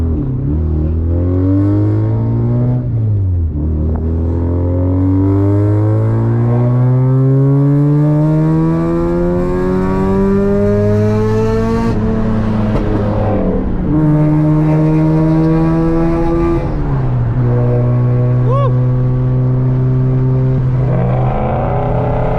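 A Mazda RX8 rotary engine on new wheels revs up through several gears, each climbing whine ending in a drop at the shift, loud and close from the cabin.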